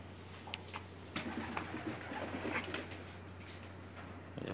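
Pigeons coo softly in a loft in Jeddah, low murmuring calls with a few brief flutters against a steady background hum, faint and somewhat distant.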